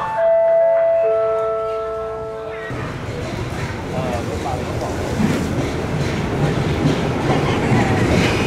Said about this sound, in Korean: 기차는 거의 동시에 도착을 하네요